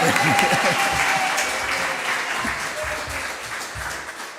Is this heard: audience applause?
yes